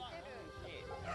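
A dog in a Koei Tecmo video game gives soft yips and whimpers. The sounds are faint and tucked beneath a person speaking over them.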